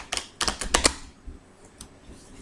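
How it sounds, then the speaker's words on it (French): A deck of playing cards is shuffled by hand during a tarot-style reading, giving a few quick riffling bursts in the first second followed by faint rustles, close and with no talking. "on va battre les cartes pour bien les mélanger"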